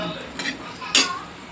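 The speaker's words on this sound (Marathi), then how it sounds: "आता कारलं मी एका प्लेटमध्ये काढून घेणार आहे" Bitter gourd is scraped out of a kadhai onto a plate. Two short metallic clanks of a spoon against the pan are heard, the second louder and sharper, close up.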